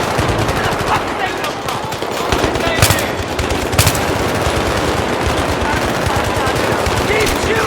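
Sustained machine gun fire in the Battlefield 3 campaign on Xbox Series X, a dense loud rattle of rapid bursts running throughout with sharper louder shots near the middle and occasional shouted soldier voices.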